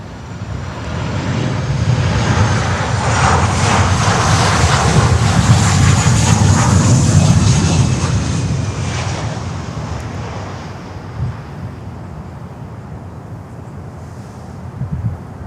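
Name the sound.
American Airlines Boeing 737 aircraft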